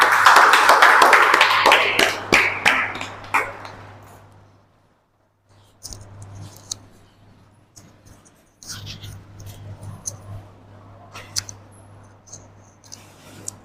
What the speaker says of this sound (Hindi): उनको तालियों के साथ बुलाएंगे।